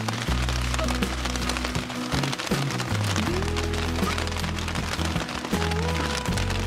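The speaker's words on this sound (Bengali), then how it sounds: "এই যে বৃষ্টিটা হচ্ছে" Heavy rain falls on village fields where seedlings are planted, a dense, constant patter close by with scattered louder drops.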